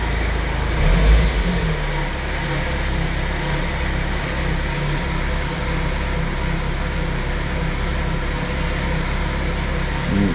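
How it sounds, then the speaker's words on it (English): An idling car engine, its cooling system just through a first heat cycle after flood damage, gets a single throttle blip that lifts into a brief rev near the start, then settles back to a steady, elevated hum alone. "Then I'm going to go ahead and blip the throttle once."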